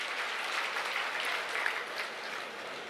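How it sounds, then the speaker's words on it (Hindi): An audience claps steadily at a political nomination roadshow rally in Kurukshetra, dense applause from many hands that holds at an even level throughout. "एक बार जोरदार ताली बजाएं"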